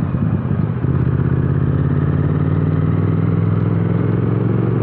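A Triumph Speed Twin 1200 (2024) roars steadily while riding, its twin-cylinder engine giving a loud, continuous throbbing drone with a slight rise in pitch, heard close and alone.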